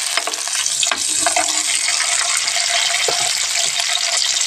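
Onions hiss and crackle in hot groundnut oil with cinnamon and fennel, a loud, continuous sizzle with occasional stirring scrapes, no talking.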